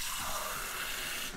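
Water from a small glass, about 100 ml, pours into a pan while a recipe is prepared, a steady splashing rush lasting over a second that tapers off at the end.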